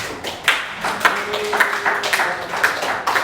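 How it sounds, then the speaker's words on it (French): A small audience claps for a muscular man called up to represent the body at a French-speaking gathering, with scattered, uneven hand claps and taps rising and falling over a few seconds, fairly close but not dense. "Est-ce qu'on peut applaudir pour notre frère Jacob?"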